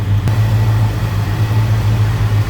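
A 1966 Pontiac GTO convertible's engine idles with a deep, steady exhaust rumble, loud and close, holding an even throb from start to finish after a brief opening sound.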